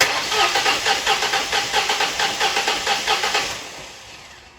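A Mustang engine cranks over without firing during a cylinder compression test, a steady run of rhythmic starter-driven pulses, loud and close, fading as cranking stops near the end.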